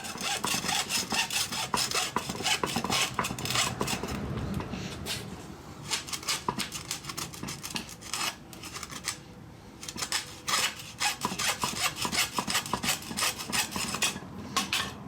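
Blade cutting through an oil hose on a 1980 F-350 service truck, a steady rough scraping and sawing that runs almost nonstop at close range, with brief lulls and no talk.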